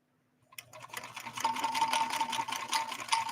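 A 1970s Kenmore 158.13520 sewing machine starts up after a moment of silence and stitches a blind hem, its motor whirring in a quick, steady mechanical chatter close by.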